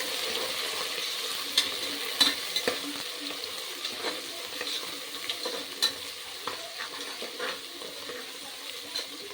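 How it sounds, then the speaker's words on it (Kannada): Fenugreek leaves are stir-fried in a pan, a soft steady sizzle punctuated by repeated spatula scrapes and light taps against the pan. "ಈಗ ಇದನ್ನು ಮೆಂತ್ಯ ಸೊಪ್ಪನ್ನು ಚೆನ್ನಾಗಿ ಫ್ರೈ ಮಾಡ್ಕೋಬೇಕಾಗುತ್ತೆ."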